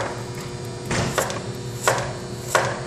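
A knife cuts a peeled carrot into thin slices on a board, a few separate, crisp chopping knocks spaced roughly evenly, close by.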